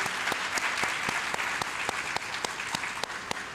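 An audience applauds for poetry and prose participants from Galena Park ISD at a school district event. The clapping is steady and dense, with a few sharper claps standing out, and it lasts the whole stretch with no talking.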